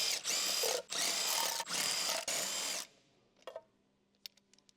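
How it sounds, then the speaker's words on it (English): Large electric impact wrench with an 18mm deep socket and short extension spinning off wheel hub nuts on a 2013 Jeep Wrangler JK, four loud, close whirring bursts in a row, then quiet clinks and handling noises. "Use a large 18mm deep socket and large short extension with large electric impact wrench to remove wheel"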